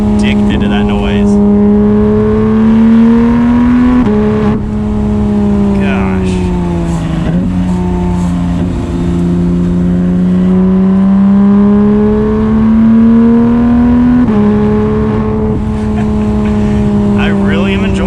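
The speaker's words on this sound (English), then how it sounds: "The exhaust, of course, the upgraded exhaust makes it sound even better" A Porsche 911 GT3 six-cylinder engine with an upgraded exhaust drones loudly from inside the car while driving, its pitch rising and falling with gear changes and throttle, with a brief spoken exclamation partway through.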